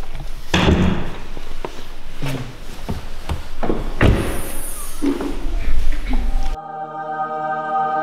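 The hood of an Audi with a 2.5-litre V6 diesel is opened and handled, giving a series of close, sharp thuds and clunks of metal and latches at irregular intervals.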